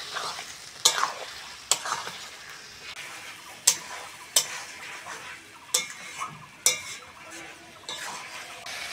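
Chicken cooking with masala spices in a pan for matar chicken curry, a soft sizzle under repeated sharp clinks and scrapes of a spatula against the pan at irregular intervals, close and alone without voices.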